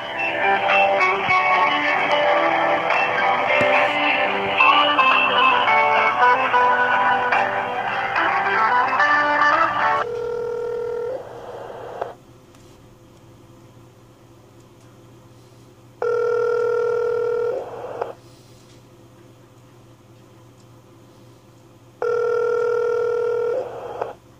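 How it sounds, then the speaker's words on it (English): Loud, tinny telephone hold music plays steadily over a phone line for about ten seconds, then gives way to a repeating electronic tone pattern with quiet gaps, two further bursts recurring at regular intervals. "They play this waiting music obnoxiously loud."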